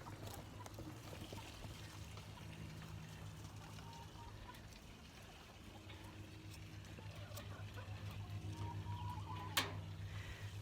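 Water poured out for hens in a backyard chicken run: a steady, even rush of pouring and trickling that holds for the whole stretch, with faint outdoor ambience around it.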